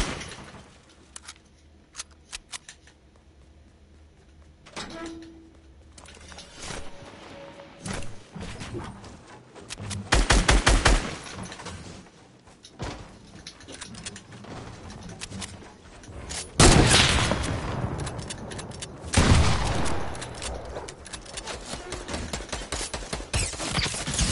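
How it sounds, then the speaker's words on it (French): Video game gunfire as shots are fired into a wall: irregular bursts of sharp cracks and rapid volleys, some dense and loud, others sparse, spread across the clip with a faint voice now and then. "j'ai tout tiré dans le mur"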